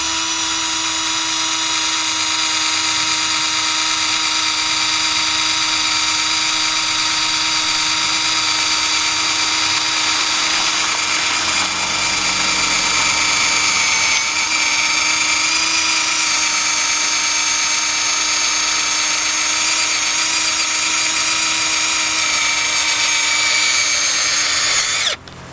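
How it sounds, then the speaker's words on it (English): A power drill drilling into an Olight Odin Mini flashlight whines loudly and continuously at a steady high pitch for the whole stretch, with no talking. "I'm gonna drill the Odin Mini with a"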